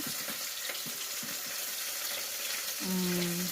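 Omani sheri fish frying in a pan, a constant hissing sizzle with a few soft clicks, joined near the end by a brief tonal hum.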